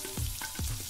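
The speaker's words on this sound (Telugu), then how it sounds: "ఈ తాలింపు దినుసులు పట్టుకొని గార్డెన్లో తొందరగా తాలింపు వేస్తాడు" Spices for tempering sizzle and crackle in hot oil outdoors in a garden, a brief, steady frying hiss with soft stirring pulses and no voices.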